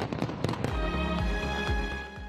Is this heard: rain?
no